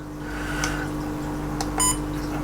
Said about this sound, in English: you've got that annoying beep